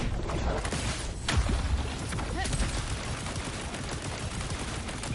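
Rapid gunfire in the video game Wuthering Waves, dense bursts of shots and booming impacts layered over a busy, loud game soundscape that runs continuously across the moment.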